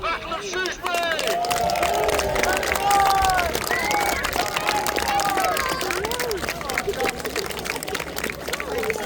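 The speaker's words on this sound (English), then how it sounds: "Your round of applause for the Battle of Shrewsbury!" A large outdoor crowd at a Battle of Shrewsbury re-enactment, a medieval battle event, roars with mixed cheering, shouting voices and scattered clapping, holding at a steady, full level across the whole stretch.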